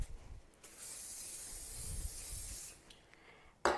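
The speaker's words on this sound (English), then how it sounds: "So I'm going to do a little bit of cooking spray." Cooking spray hisses into a frying pan in a home kitchen, a soft, steady spray of about two seconds, then a short pause and a brief clunk at the end.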